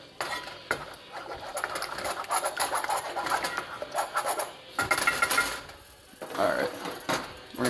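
Eggs being stirred in a pan while cooking creamy scrambled eggs, a steady scraping and clinking of a utensil against the pan in near, continuous strokes with brief pauses.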